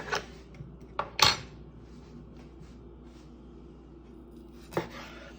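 A knife slices through cooked, rested A5 Miyazaki wagyu ribeye on a board, giving a few sharp close cuts and taps against a quiet background.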